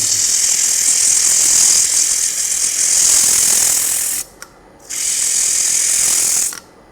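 Woodturning piece spinning on a lathe while 80 grit sandpaper is pressed against it, a loud, steady high hissing rasp close by that cuts out briefly near the end twice, with no talking.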